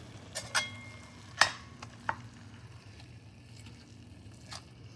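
Ground beef frying in a pan, a soft steady sizzle with a few sharp scrapes and clacks as the meat is broken up, mostly quiet between the knocks.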